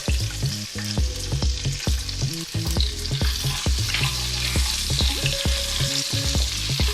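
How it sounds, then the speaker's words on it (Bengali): Chopped garlic fries in oil, giving a bright, constant sizzle with stirring clatter, heard close and steady beneath a layer of background music. "এবার আমি এই তেলের মধ্যে দিয়ে দিলাম রসুন কুচি।"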